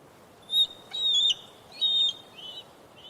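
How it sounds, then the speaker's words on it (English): A bald eagle calls in a series of thin, high whistling chirps, four or five short piping bursts in quick succession, clear and fairly close over a faint background hiss. "Isn't the bald eagle a wonderful flying creature?"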